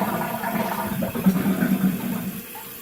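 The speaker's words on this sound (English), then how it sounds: "lets all the water out, filling up the tank" A household toilet flushes and its tank refills through a newly replaced fill valve, a close, steady rush of water with a gurgling swirl midway, then continuing to run.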